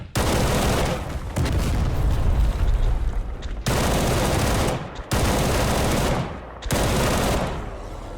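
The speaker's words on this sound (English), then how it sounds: "I like the sound of this AK a lot though, so I just dumped a mag into him" An AK rifle in the S.T.A.L.K.E.R. video game fires a full magazine in long, loud bursts of automatic fire separated by short pauses.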